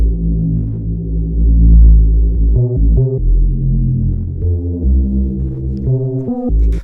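Layered wavetable synth patch, a saw wave and a square wave stacked in unison for modern hard house, played dry without effects as sustained buzzing chords with short rhythmic stabs, loud and alone.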